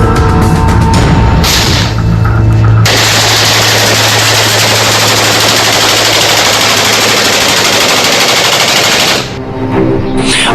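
Heavy gunfire in the Kunar area of Afghanistan erupts in sustained, loud automatic bursts that merge into a continuous roar for several seconds before tapering off, with no talking.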